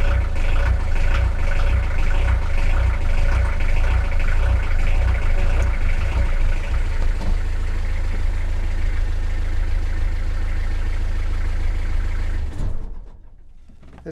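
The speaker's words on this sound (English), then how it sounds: "Fire up the engine?" A boat engine runs steadily at idle with a loud, throbbing low rumble for about twelve seconds, then cuts out abruptly, leaving near silence.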